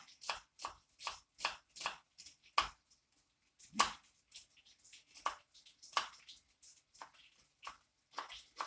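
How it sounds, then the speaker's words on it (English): Quick knife chops through a shallot on a cutting board, a steady series of crisp taps close by, pausing briefly and then resuming at a similar pace. "that's how you would chop an onion or a shallot"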